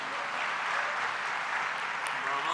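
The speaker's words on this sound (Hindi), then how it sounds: "जोर से ताली बजाएंगे।" Applause from a gathered audience at a spiritual meeting, a steady wash of many hands clapping that holds at even strength for a few seconds.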